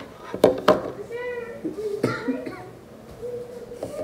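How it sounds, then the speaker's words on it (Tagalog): Two sharp coughs close together near the start, then another cough a bit later, with a voice talking softly in the background. "Sorry sa ubo ko guys."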